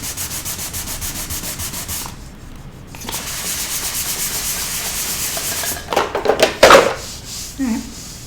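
Sandpaper rubs over cured resin laid on a rag, a rhythmic close scratchy rasp in repeated strokes with a brief pause, then a few sharper scrapes and knocks toward the end.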